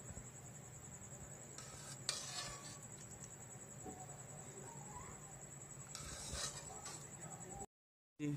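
A spoon scrapes and clinks against a pot and dish while white chickpea curry is served out, a few soft metallic knocks over a steady background hum.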